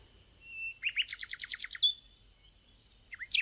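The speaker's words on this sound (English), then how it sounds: "The cute bird began to sing beautifully." A small bird sings nearby in clear, high chirps, with a rapid trill of evenly spaced notes and a few thin whistled tones in a quiet setting.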